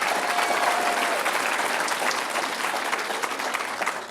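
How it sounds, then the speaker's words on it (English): A crowd at an awards ceremony claps in a dense, steady round of applause that stays fairly even throughout and eases off slightly toward the end. "Let's give one more round of applause."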